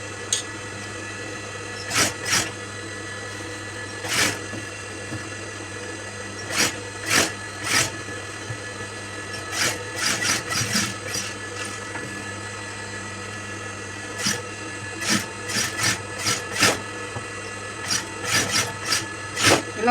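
A sewing machine stitches piping onto the neckline of a churidar, a steady low motor hum broken by short, irregular bursts of needle clatter, close and alone.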